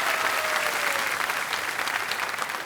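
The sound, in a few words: studio audience applause on KBC game show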